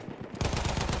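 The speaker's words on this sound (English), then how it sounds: "I hear gunshots" Gunfire in Battlefield 1 multiplayer: after a fainter lead-in, a loud burst of rapid automatic shots rattles on in a quick, even rhythm.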